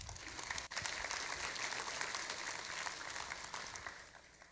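A conference audience at a food industry educational session applauds after sponsor acknowledgments, a dense, fairly faint wash of many hands clapping that holds steady for several seconds before easing off at the end.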